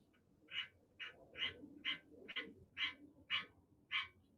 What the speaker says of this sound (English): That was a frog.